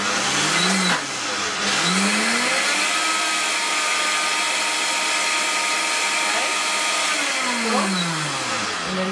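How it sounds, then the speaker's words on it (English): A kitchen blender whirs at high speed through a thick raw vegan charcoal yogurt, a loud, steady motor drone with brief dips in pitch as the load shifts, close up and running the whole time. "therefore I did use the blender and not the food processor"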